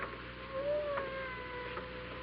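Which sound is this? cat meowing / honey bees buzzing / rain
cat meowing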